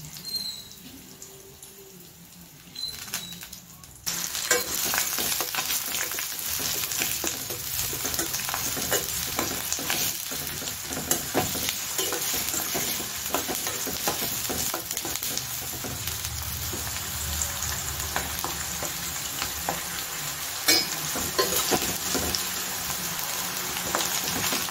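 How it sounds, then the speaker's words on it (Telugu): Ginger garlic paste and onions with curry leaves sizzle and fry steadily in hot oil in a pan, with occasional stirring, loud and continuous after a quieter start. "జింజర్ గార్లిక్ పేస్ట్ కూడా వేసుకొని ఫ్రై చేస్తున్నానండి"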